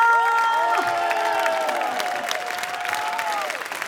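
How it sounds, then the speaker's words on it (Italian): An outdoor crowd in Piazza Manzoni, Jesolo, applauds and cheers after a concert performance, a loud sustained wash of clapping with high whistles and whoops over it, slowly easing off. "Ci mancano tutti questi applausi,"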